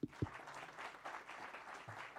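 An audience at an awards ceremony applauds in a brief, moderate patter of clapping, with a couple of sharper claps at the start and a light crowd wash.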